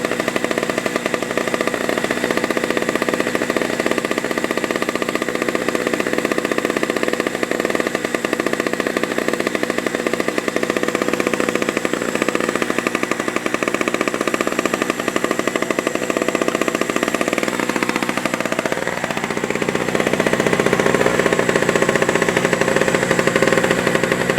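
A Pulsar 1200W gas generator sits running on the ground, its engine a loud, constant, rapidly pulsing drone that holds steady and swells slightly toward the end.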